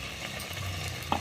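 Aloo chop potato fritters sizzle quietly in hot oil with a steady crackling hiss and occasional stirring, close and faint, without talk.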